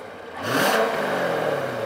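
A 2014 Corvette Z51 Stingray engine revs up briefly in Eco mode, rising into a whirring exhaust note that holds steady, fairly loud and close.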